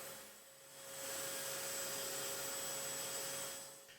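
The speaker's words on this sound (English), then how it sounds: "I'll clean up the live edges with a nylon wheel" A nylon abrasive wheel works the live edges of a walnut slab, giving a steady whirring, scrubbing roar that swells after about a second, holds close and even for a few seconds, then tapers off.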